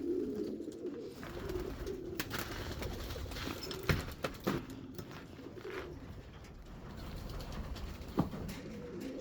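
Outside a loft in Lithuania, racing pigeons keep up a soft, low, rolling coo from nearby, with scattered taps, wing flutters and small knocks breaking through the steady murmur.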